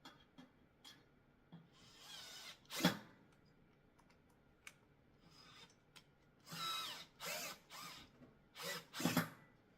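A power drill driving mounting screws into a stair stepper machine, several short whirring bursts of varying length separated by quiet gaps and small handling knocks, fairly close.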